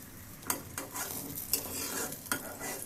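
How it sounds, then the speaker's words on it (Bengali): Puri fries slowly over medium heat in a little oil in a small karahi, a soft sizzle broken by three or four sharp scraping stirs, quiet and close. "এইভাবে ধীরে ধীরে মিডিয়াম আসে ভেজে নিতে হবে এইভাবে পুরিটা"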